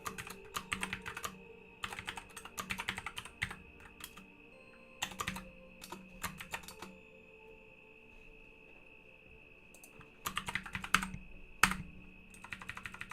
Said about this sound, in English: I am going to type in